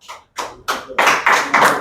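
A short burst of group clapping in a classroom, starting with a few scattered claps and swelling into fuller, louder applause.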